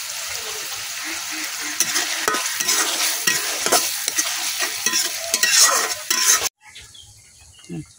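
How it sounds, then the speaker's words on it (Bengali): Onion frying in oil with whole spices such as bay leaf, cloves and cardamom makes a loud, continuous close sizzle with stirring scrapes, then stops abruptly near the end, leaving quieter background. "পেঁয়াজটা কিন্তু ভাজা হয়ে গেছে"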